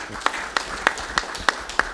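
Audience applause at the Africa Now high-level dialogue comes as steady, evenly spaced claps, crisp and moderately close, with no talk over them.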